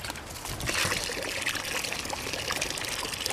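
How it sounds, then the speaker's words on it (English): Water pours steadily into the soil of a potted gumbi gumbi plant, a close, continuous trickling and splashing that runs without a break and with no talk over it. "And the water's going to go straight down into the hole."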